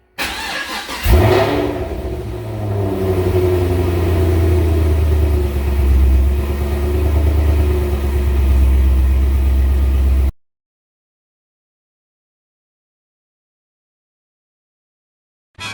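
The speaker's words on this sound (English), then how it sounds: "Sorry, neighbors. Car's loud." A supercharged LSA V8 in a Chevy SS starts with a sharp bark, then settles into a loud, deep, lumpy idle with small revs, close by for about ten seconds before cutting off.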